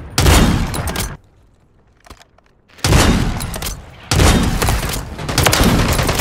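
Bursts of rifle fire in a shooter video game, shooting through a wall: three loud, dense volleys separated by short quiet gaps, the last one sustained to the end.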